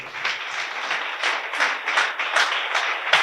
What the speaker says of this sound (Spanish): Bríndenle un aplauso al Señor.